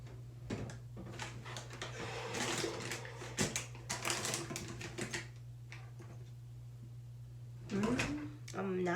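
A drawer is opened and rummaged through during a search for makeup, with clattering, sliding and knocking of items in quick bursts, close by, while someone talks.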